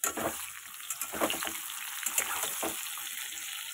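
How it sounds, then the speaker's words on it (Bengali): Carrot, papaya, pointed gourd and capsicum fry in a pan at home, giving a steady close sizzle with a few brief stirring clatters and no talk. "গাজরগুলো পেঁপেটাও ভাজা হয়ে গেছে, পটলটার একটু হলে হয়ে যায়, ক্যাপসিকামও ভাজা হয়ে গেছে।"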